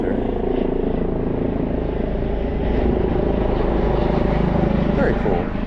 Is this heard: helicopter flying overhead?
yes